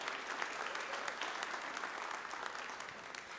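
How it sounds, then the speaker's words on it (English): Breakfast crowd at a mayors' event applauds the sponsors, a quiet, distant wash of continuous clapping from many people, even and sustained. "Please give them a huge round of applause because we could not do this without them."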